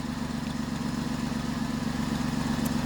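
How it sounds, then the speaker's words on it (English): A Buick engine idles with a leaking exhaust manifold gasket, a steady low throbbing drone with a faint rapid puffing ticking, loud and close, no voices. "And you hear that noise, folks? That's an exhaust gasket. Manifold gasket, yep."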